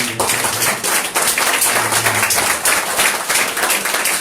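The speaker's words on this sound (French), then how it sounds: "On applaudit le Seigneur pour sa parole." Congregation at a church service applauding, a dense steady wash of clapping filling the space for a few seconds, loud and close, with no voices standing out.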